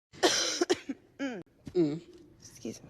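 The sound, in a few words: person coughing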